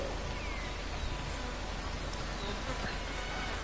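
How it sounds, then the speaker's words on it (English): Steady insect buzzing of bees swarming around a nest in the game Ancestors: The Humankind Odyssey, a continuous close drone with no talk over it. "think there's a bee's nest up here somewhere."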